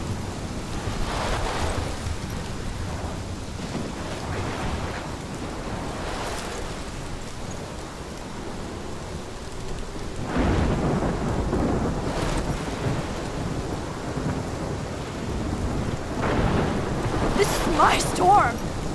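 Steady heavy rain hisses throughout a thunderstorm in the game Life is Strange, with several deep rumbling thunder rolls building and fading, loud and close, no voices over it.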